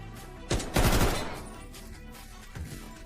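Video game gunfire: a loud, close volley of rapid shots in a short cluster, then a fading tail and one more brief burst.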